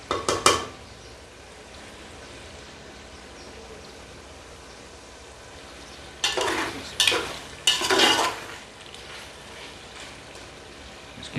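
Ginger garlic paste masala being stirred and fried in a pan: quiet background sizzle with a few loud, sharp bursts of spoon scraping against the pan near the start and again in the second half, no talking.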